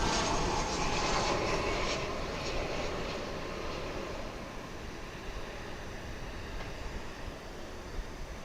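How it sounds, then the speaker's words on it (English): American Airlines Flight 1090 from Tulsa arriving at Dallas Fort Worth International Airport, a steady broadband jet roar that is loudest at the start and eases slightly as it passes, with no voices. "incoming, we have a American Airlines Flight 1090 coming in from Tulsa"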